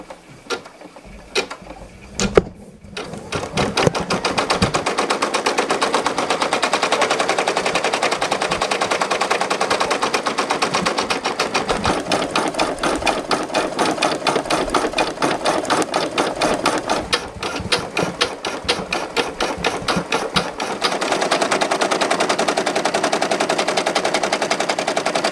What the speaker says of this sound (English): let's jump over to the machine and I'll show you guys how to stitch it out